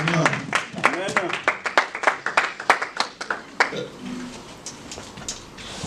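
A church congregation claps and applauds in a burst of sharp, rhythmic handclaps that gradually thin out, with voices mixed in during the worship service.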